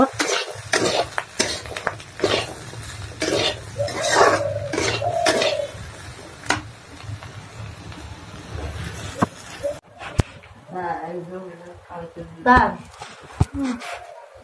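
Fried seeds are taken off the heat in a home kitchen, with metal pots, pans and a spoon clattering and scraping throughout while someone talks over the noise.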